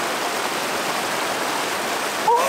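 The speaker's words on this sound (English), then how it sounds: "dip my feet in the river" River water in the Austrian countryside rushes in a steady, loud broadband wash from start to end, with a brief faint chirp near the end.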